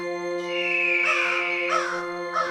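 A crow caws in a story about a sparrow and a crow set in a jungle, giving one drawn-out harsh call followed by shorter rasping calls, close and loud over a steady tonal music bed, with no talking.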